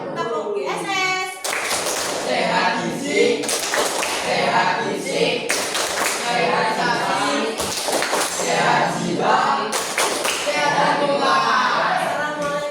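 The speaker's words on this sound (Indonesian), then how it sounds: "saya minta 1 kali tepuk tangan" A group claps in a rhythmic, rehearsed pattern at the close of a school session, with bursts of patterned applause alternating with children's voices chanting along.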